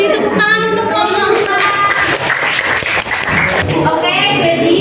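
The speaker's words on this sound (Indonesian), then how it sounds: "Beri tepuk tangan untuk ngomong." A classroom of students in an Indonesian biology lesson claps, loud scattered hand claps with uneven rhythm mixed with voices and children's chatter.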